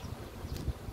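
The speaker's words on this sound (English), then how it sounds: "Oh, it's windy out here." Wind blows outdoors in the grass and sticks, rumbling low gusts buffeting the microphone, faint and continuous, with no voices.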